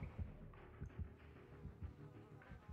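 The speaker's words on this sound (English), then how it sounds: "I'm gonna wait for the heartbeat to fade away." Heartbeat effect from the Dead by Daylight video game, marking an approaching killer: soft, low double thumps pulsing in a steady rhythm under a faint hum, quiet and without speech.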